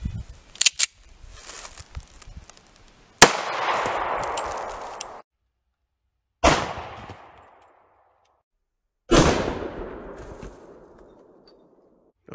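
.45 ACP Hornady American Gunner jacketed hollow point rounds fired at body armor: four loud, sharp gunshots spaced a few seconds apart, each with a short echoing decay, plus a few faint clicks at the start.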